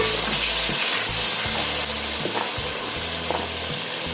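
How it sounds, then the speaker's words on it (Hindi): Garlic and ginger paste fries in a masala base for chicken tikka biryani, a loud continuous sizzle with a low rumble and several stirring scrapes and knocks spread across the clip, no voices. "अब इसमें हम लहसुन और अदरक का पेस्ट शामिल करेंगे।"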